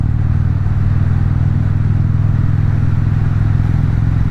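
Motorcycle riding with a GoPro on the handlebar mount: a steady, loud engine drone with low rumble and wind noise throughout, no speech.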